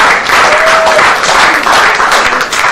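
A seminar audience gives a dense, loud round of applause for a professor, sustained and even throughout, with no talking over it.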